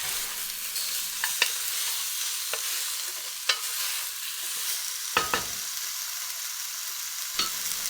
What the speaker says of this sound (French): Je mélange ma viande avec les épices et je vais laisser la viande se colorer pendant 4 à 5 minutes, en la remuant de temps en temps.